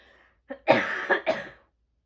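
A person coughs close by: a short catch, then a stronger cough breaking into two or three quick bursts before falling silent.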